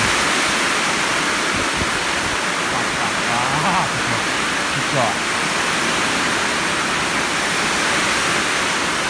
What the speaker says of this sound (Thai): ทั้งลมทั้งฝนมาพร้อมกันเลย